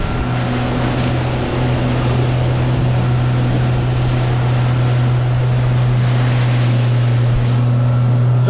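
A fishing boat motors across the ocean while out trolling for halibut, its engine holding a steady low drone under continuous wind buffeting and wash from the waves, with no voices.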